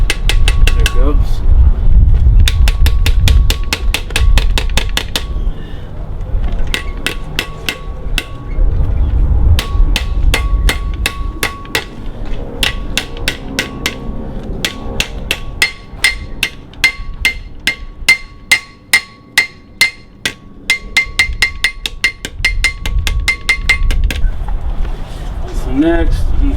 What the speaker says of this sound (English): I'm just gonna start tapping it in. Sometimes it takes a second to get it started.